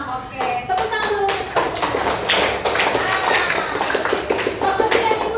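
A school class claps hands together in a computing lesson, loud and close, a brisk flurry of individual slaps blending into steady applause for several seconds.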